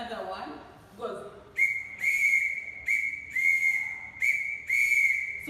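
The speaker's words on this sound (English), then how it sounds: "So that one, it is an alert whistle signal." An alert signal blown on a whistle as a dot-and-dash pattern, loud shrill short-long blasts repeated three times, with a brief voice or noise before the whistling starts.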